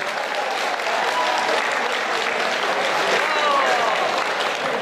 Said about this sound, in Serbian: Naravno, za početak još jedan aplauz za naše gosta večeras